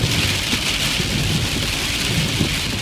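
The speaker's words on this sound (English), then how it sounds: "the rain's just getting heavier and heavier" Heavy rain pours steadily on a moving vehicle, a loud dense wash of drumming drops with a low rumble underneath, continuous and close with no voices.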